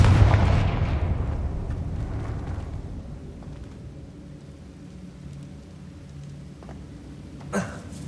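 A fire-blast spell explosion in Hogwarts Legacy goes off with a loud booming burst that rumbles and decays over a few seconds into a low ambient hum, with a small crackle later on.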